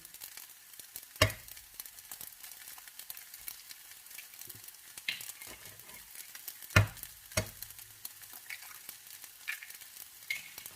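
Fried rice with butter, chicken and carrot sizzling steadily in a pan as egg goes in, a constant soft frying hiss broken by several sharp clacks and scrapes of a utensil against the pan.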